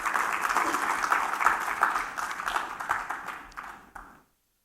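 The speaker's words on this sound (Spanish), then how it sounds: "Dele palmas al Señor si así lo cree." A church congregation claps along in worship, a dense, steady patter of many hands filling the room for about four seconds before stopping abruptly.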